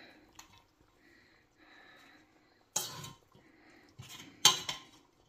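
Chicken feet being stirred into a pot of pato-tim: scattered metallic scrapes and clanks of a utensil against the cooking pot, with a couple of louder clatters and soft sniffs in a quiet kitchen.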